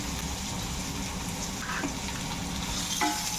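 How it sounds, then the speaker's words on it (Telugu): Onions and cumin fry in hot oil with a steady close sizzle, broken by a few light stirring scrapes of the pan. "ఆయిల్ వేడైన తర్వాత ఇందులోకి కొంచెం జీలకర్ర ఫ్రై చేసుకున్నాక కొంచెం ఆనియన్స్ వేసుకొని ఫ్రై చేసుకోవాలి."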